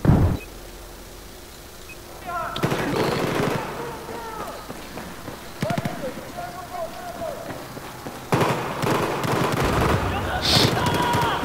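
Battlefield 4 gameplay gunfire: bursts of rapid automatic shots and scattered single cracks, mid-distance and moderately loud, with game footsteps and a player talking over the action.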